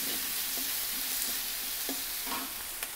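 Vegetables stir-fry for fried rice in a wok over high heat, a continuous bright hiss with a few light clinks and scrapes of a utensil, close and steady, with no talking.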